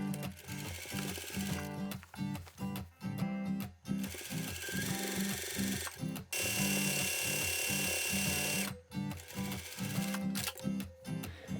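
A sewing machine stitches down the back edge of an apron hem in a busy, close whirring run that stops and starts several times, with small handling sounds in the gaps.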